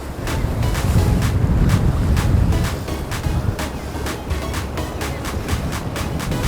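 Stormy sea surging against the shore near Malmö, Sweden, with steady wind buffeting the microphone and water rushing and breaking in a continuous loud wash, no talking.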